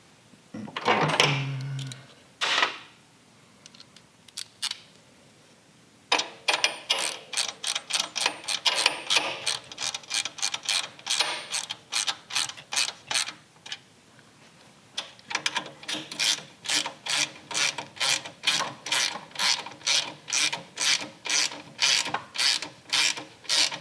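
A ratchet clicks rapidly and closely as front motor mount bolts are threaded in on an FXR motorcycle build, in several long runs of fast, evenly spaced ticks separated by brief pauses.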